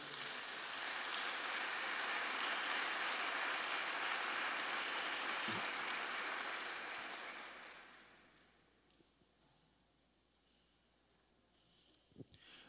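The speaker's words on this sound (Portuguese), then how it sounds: "vamos aplaudir a palavra do Senhor" A church congregation claps together, a broad even wash of applause that holds for several seconds, then fades out into near quiet with a few stray sounds at the end.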